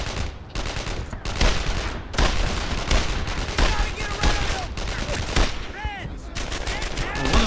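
Rapid rifle and machine-gun fire from the World War II video game Brothers in Arms: Earned in Blood crackles in dense repeated bursts with short gaps, loud and close throughout.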